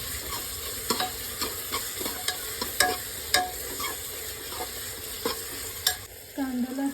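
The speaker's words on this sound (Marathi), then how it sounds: "कांदा हलवत राहायचा आहे" Onion and cinnamon stirred in a hot pan for veg pulao: a steady sizzle with repeated sharp scrapes of a spoon against the pan, loud and close, with no talking.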